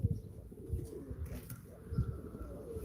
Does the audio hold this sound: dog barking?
no